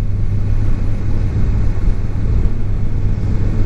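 A motorcycle with an underfloor exhaust being ridden, giving a loud, steady engine rumble and drone that holds without a break throughout.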